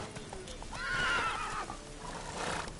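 Roach, Geralt's horse in The Witcher 3, gives a loud, close neigh that swells and fades over a couple of seconds, with faint hoof clops and game ambience beneath.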